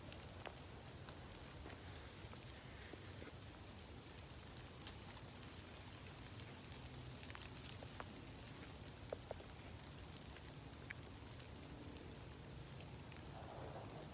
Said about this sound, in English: It's getting more rainy.